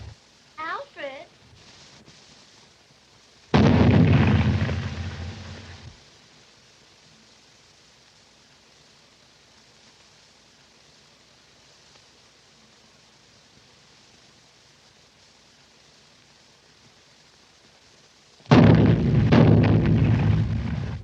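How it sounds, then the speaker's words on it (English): Ceremonial cannons fire for a royal wedding: two long, loud booming roars a couple of seconds each, separated by a long quiet stretch, with a brief voice at the very start. "Do you hear those cannons?"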